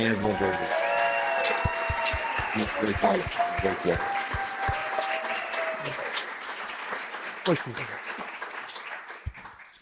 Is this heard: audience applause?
yes